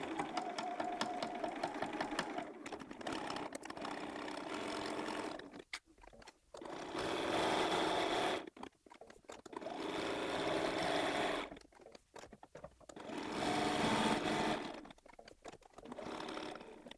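A sewing machine top-stitches quilt fabric near the edge for an Easter basket, running in steady rapid bursts with short pauses between runs, close and clear.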